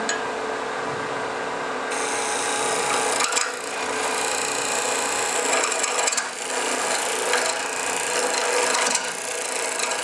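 A woodturning tool cuts straight into hard honey locust end grain to form a tenon on the lathe, giving a loud, continuous rasping scrape that holds steady for the whole stretch.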